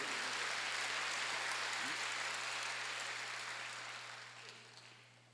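A congregation claps together during a Sunday church service, a dense wash of applause that holds steady and then gradually thins and fades toward the end.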